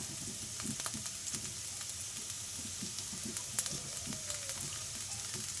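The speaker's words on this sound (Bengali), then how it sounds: "এভাবে ভেজে নেওয়ার পর যখন পেঁয়াজগুলো একটু লাল লাল হয়ে আসবে, তখন এটার মধ্যে আমি অল্প পরিমাণ জিরা গুঁড়া দিয়ে দেব।" Onions and chili fry in a pan with cumin powder, giving a quiet, steady sizzle with soft crackles and occasional stirring taps, with no talk.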